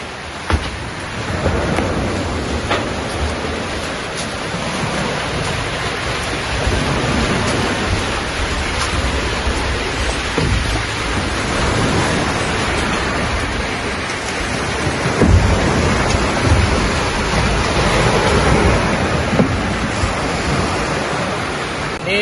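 Steady broadband roar of surf at Ujung Pandaran beach near Sampit, a continuous wash of breaking waves with no pauses and no voices.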